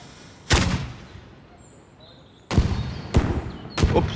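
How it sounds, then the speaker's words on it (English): Firecrackers going off as festivities begin: four sharp, loud bangs, one near the start and a quick cluster of three toward the end, each ringing briefly into the surrounding quiet. "Oops, oh, yeah, that's a firecracker."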